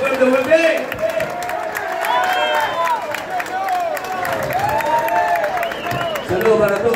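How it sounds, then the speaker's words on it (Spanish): Audience applause and crowd noise at a live Grupo Green cumbia show, a steady wash of clapping and cheering beneath a ringing, sliding tone, with a voice briefly heard near the end. "Los aplausos bien fuerte"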